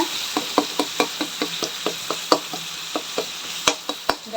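A spoon scrapes and taps rhythmically against a pan as ginger garlic paste fries for a tomato kurma, with steady clinks around two per second over a faint background sizzle, close and fairly loud.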